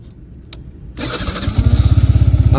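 A Yamaha R15 V4 motorcycle engine cranks briefly and fires up nearby, then settles into a loud, steady, throbbing idle.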